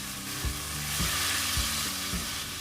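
A jackfruit mixture being stirred and roasted in ghee in a pan, giving a soft continuous sizzle with regular low scraping strokes of the spoon roughly every half second.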